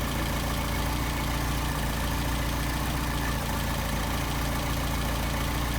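A car engine with a Solex carburetor ticks over at idle after adjustment, a steady, close, loud rumble with an even pulse throughout and no talking.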